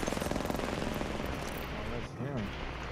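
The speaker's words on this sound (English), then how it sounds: "Why is this her gunshot?" Rapid automatic gunfire in the video game Apex Legends rattles in a fast, loud burst, followed by a brief pause and further firing and game effects, with dense battle noise throughout.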